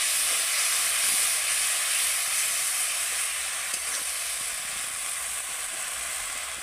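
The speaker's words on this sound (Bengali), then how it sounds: "মশলার মধ্যে সামান্য একটু জল দিয়ে দেব, খুব ভালো করে কষিয়ে নেব।" Spice paste sautéing in a pan after a splash of water is added, giving a steady loud hiss and sizzle that fades slightly toward the end, with faint stirring and no talk.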